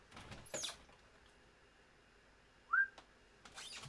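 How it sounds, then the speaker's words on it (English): A person whistles out of an open window and the sound echoes outside: one short, rising whistled note rings out against an otherwise quiet background, with faint rustling earlier and later. "Just whistled out the window randomly. I could just hear it echoing everywhere."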